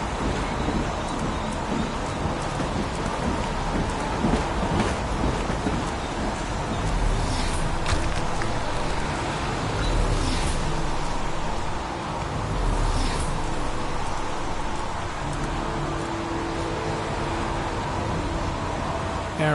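Steady rain pours with occasional rumbles of thunder in the video game Heavy Rain, a continuous dense hiss with a few brief swells, and no voices.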